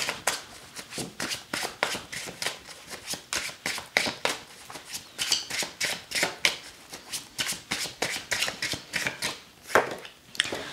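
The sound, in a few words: shuffling and drawing tarot cards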